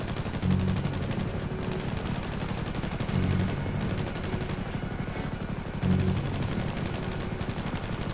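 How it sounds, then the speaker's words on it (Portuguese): In a GTA 5 roleplay game, gunfire is exchanged with an aircraft, rapid shots rattling steadily over a droning engine, with heavier bursts recurring every few seconds. "Trocando tiro com a aeronave."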